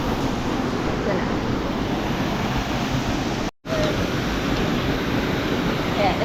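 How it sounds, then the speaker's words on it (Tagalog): Aloha Falls, a waterfall on a beginner-friendly hike up Mt. 387 in the Philippines, gives a steady, loud, broadband rushing roar that barely changes, with one brief cut-out partway through. "This is Aloha Falls."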